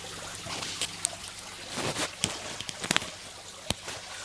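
Sponge wobbled and rinsed in a bucket of aquarium water gives close, soft sloshing and trickling with scattered small splashes and drips, irregular and quiet throughout.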